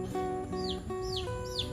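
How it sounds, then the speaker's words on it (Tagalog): Pet chickens cluck softly nearby in short repeated calls, while thin bird chirps sound faintly in the background. "mayroon tayong alagang mga manok"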